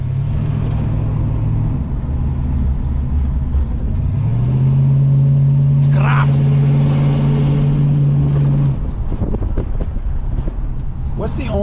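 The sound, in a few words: 1965 Mustang convertible driving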